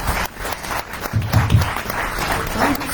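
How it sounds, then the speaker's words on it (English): An audience at a research institute's annual retreat applauds a speaker, a dense, steady wash of clapping that swells in the middle and carries through to the end. "Another round of applause."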